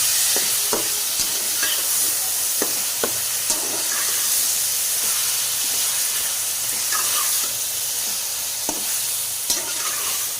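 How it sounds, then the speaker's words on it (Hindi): Half a kilo of minced meat fries with tomatoes in a pan, giving a steady close sizzle and hiss broken by occasional scraping clicks from stirring. "कीमा डालने के बाद 4 से 5 मिनट तक अच्छे से भूनेंगे"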